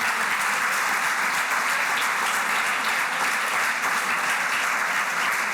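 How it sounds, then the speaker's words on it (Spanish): A church congregation applauds for the Lord, a dense, steady wash of clapping from many hands that holds at an even level throughout, with no talk on top. "¿Le da un aplauso usted al Señor?"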